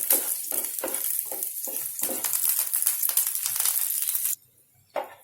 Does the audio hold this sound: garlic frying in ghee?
yes